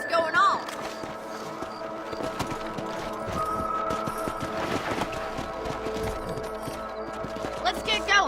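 Horse hooves clip-clop in a steady gait in Red Dead Redemption, played on an Xbox 360 emulator, against a busy game soundtrack of music and ambient effects, with talk mixed in.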